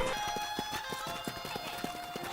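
Horse hooves clip-clop at a steady walking rhythm in the Red Dead Redemption video game, close and clear, with a low hum of background game ambience and speech nearby.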